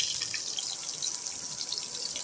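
Cumin and mustard seeds sizzle in hot oil in a pan, a steady close hiss and crackle with no break in it.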